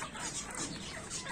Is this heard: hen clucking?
yes